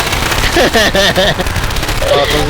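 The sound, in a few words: gunfire in the video game Left 4 Dead 2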